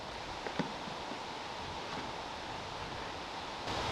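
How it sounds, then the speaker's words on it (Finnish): Steady, roaring wind buffets the microphone throughout, a continuous broadband rush with no voices, outdoors on a summer night beside a SUP board. "Vitsi, tää tuuli ei kyllä laannu yhtä."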